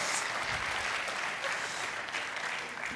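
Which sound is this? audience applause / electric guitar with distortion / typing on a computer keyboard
audience applause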